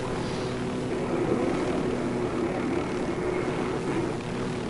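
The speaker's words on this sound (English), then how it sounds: "We got a Dutchman flying in a ghost helicopter." Helicopter flying in a video game with rotors missing through a glitch, a steady droning engine hum with a whirring buzz, continuous and moderately loud, no talk.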